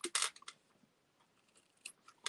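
Scissors snip through the edge of a Kraft cardboard note-card box, a couple of quick, crisp cuts near at hand followed by a few light clicks and a final snip in an otherwise quiet room.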